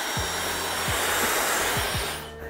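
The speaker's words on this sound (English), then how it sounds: "a hairdryer that Dyson sent recently" A Dyson Supersonic hair dryer runs with a steady, loud airy whoosh that cuts off near the end, with faint low clicks under the airflow.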